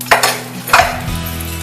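Bay leaves and whole spices dropped into hot oil, two sharp clinks with bursts of sizzle, then a steady crackling fry, close and loud with no talk.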